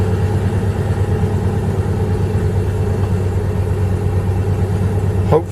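A 1995 Jeep Grand Cherokee 5.2 V8 runs at a high idle, a steady loud low rumble close by with no pauses, ending in a brief knock near the end.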